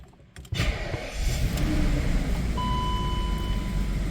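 A BMW E38 750i V12 sedan pulling away after a quiet start, its engine note rising into a steady, close-miked drone with a faint high whine layered on top.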